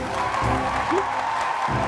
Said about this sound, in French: Merci, applaudissez pour eux, s'il vous plaît.